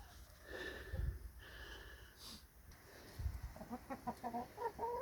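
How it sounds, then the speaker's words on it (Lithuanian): Backyard hens cluck and chatter eagerly as they wait to be fed, a run of short, close clucks that grows busier toward the end, with low snorting sounds and soft background noise. "Mano vištytės, lesti jau nori"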